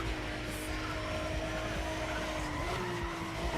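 In Need for Speed ProStreet, a race car's engine drones and shifts pitch as it brakes hard into a corner, its tires skidding and scrubbing loudly under a constant roar.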